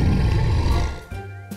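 A big bad wolf growl effect from a Three Little Pigs fairy tale rings out as a loud, deep, rumbling roar for about a second, then drops to a short tail and a brief low grunt.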